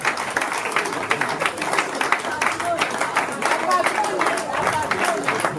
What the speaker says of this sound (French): merci d'applaudir parce que le main en fait mal